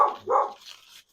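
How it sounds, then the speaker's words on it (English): A dog barks twice in quick succession, fairly close, followed by a softer trailing yip. "I'm so sorry about the barking"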